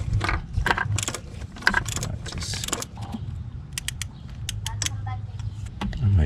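Mechanical clicks and ratcheting from a torque wrench tightening bolts to 20 foot-pounds on a Range Rover engine during timing work, irregular sharp ticks at close range over a low background hum, with some brief voice.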